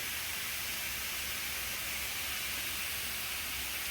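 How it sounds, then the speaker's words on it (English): Pork chops sear in a hot pan with a soft, even hiss. The sizzle holds steady and fairly quiet for the whole stretch, with no talking. "We're just gonna put a sear on these."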